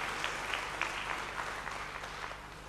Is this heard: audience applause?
yes